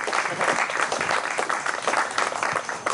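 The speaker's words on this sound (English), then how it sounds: "Give yourselves a round of applause." Guests at a cocktail reception clap together in a lively, sustained round of applause that stays strong from start to finish, with a few voices faintly beneath.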